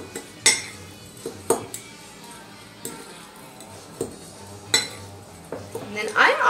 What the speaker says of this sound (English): So we're just going to give this a good mix up